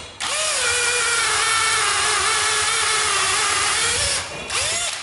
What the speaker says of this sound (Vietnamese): Con này thì mình sẽ khoan cho các bạn xem nha